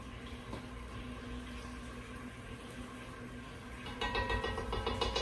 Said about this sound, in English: okay, there's the sizzle